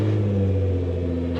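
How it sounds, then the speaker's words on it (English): A Nissan GT-R with a new exhaust idles with a deep, steady engine drone, close and loud, holding at an even pitch without a clear rise. "you get a sneak peek or a sneak sound peek to the new GTR exhaust"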